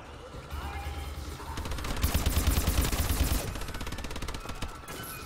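Automated turret in the video game Call of Duty: Advanced Warfare firing a long, rapid stream of shots that swells louder midway and then thins into quicker, lighter bursts.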